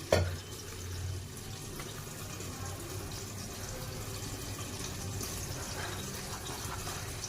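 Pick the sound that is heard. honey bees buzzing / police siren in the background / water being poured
water being poured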